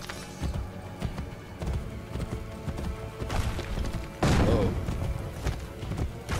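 Rapid hoofbeats of a galloping horse in the video game Assassin's Creed: Brotherhood pound steadily, with game music and effects layered over them and a louder burst near the end.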